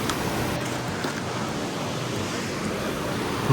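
Continuous rushing water noise of a mountain river on the Sar Pass trek, broad and steady for a few seconds with no voices.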